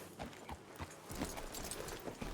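Horse hooves clip-clop in Red Dead Redemption 2, a steady series of regular, fairly close thuds at walking pace, with no talk over them.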